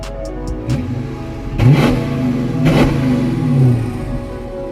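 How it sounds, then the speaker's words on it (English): A 2015 Dodge Challenger Shaker V8 revved in short bursts at close range, a couple of quick blips followed by two longer throaty revs that fall back to a rumbling idle. "I'm gonna give it a little rev."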